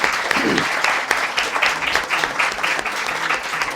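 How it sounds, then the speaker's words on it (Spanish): A lecture audience claps in steady, dense applause that continues for several seconds at fairly high volume. A voice speaks briefly near the start. "Bueno, un aplauso de primera."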